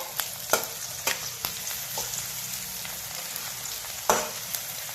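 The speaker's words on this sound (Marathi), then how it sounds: "आता टाकायच्यात मिरच्या आणि टोमॅटो त्याला घ्यायचं आहे हलवून" Chillies and tomato are stirred and fried in a pan, with a steady hissing sizzle and scattered clanks and scrapes from the spoon, heard close and without talk.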